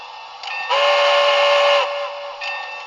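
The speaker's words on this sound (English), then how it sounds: "Now here's the whistle." A model steam locomotive's sound-decoder whistle with a quill sounds one sustained, tonal blast, bracketed by quieter whistle tones before and after, with no talking.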